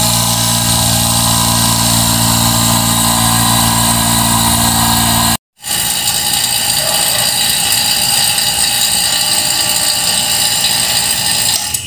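A vacuum pump evacuates the refrigerant line of a Haier air conditioner that has an icing, low-cooling fault. It gives a steady, loud mechanical drone with one brief cut-out midway, and no voices.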